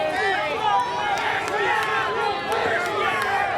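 Wrestling crowd at the Waxhaw Cup jeering a wrestler who has left the ring, a loud continuous mass of shouting voices with rising and falling jeers over several seconds.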